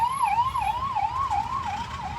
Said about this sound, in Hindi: एम्बुलेंस जखन जाए ओकरा साइड दे दियो।